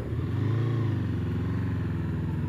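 A Honda VFR800X Crossrunner motorcycle engine idling close by with a steady throbbing rumble, loud and continuous.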